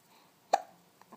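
A young child gives a single sharp hiccup up close, followed by faint small mouth sounds in a quiet room.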